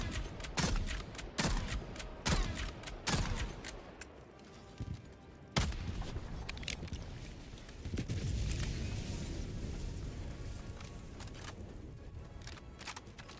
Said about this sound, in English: I hear explosions off in this direction